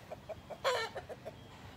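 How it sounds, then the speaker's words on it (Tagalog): Farm chickens clucking nearby, a series of short soft clucks with one louder squawk in the middle, over a quiet outdoor background. "At saka ito naman yung mga manok ko dyan. Ito yung mga chicken."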